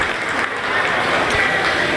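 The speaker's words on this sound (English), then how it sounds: "Let's give these guys a round of applause again." Audience applause ringing out at a meat goat show, a steady wash of clapping that holds for the whole two seconds with no break.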